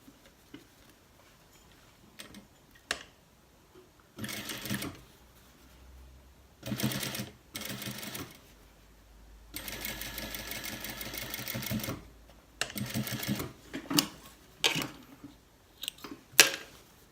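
A sewing machine understitches a dress seam in short bursts, rapid mechanical whirring runs separated by quiet pauses and small clicks of fabric handling, close and fairly quiet.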